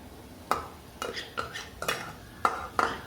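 A spoon stirs fried onion and crushed garlic in a metal pan, giving sharp scraping clinks at irregular intervals over a faint sizzle, close and clear with no voice.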